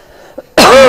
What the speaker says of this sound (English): I don't want to be coughing through this whole video